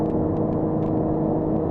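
Steady engine hum from a Jaguar F-TYPE being driven on a test drive, a continuous low drone heard from inside the car with faint intermittent higher whirs on top, no talking.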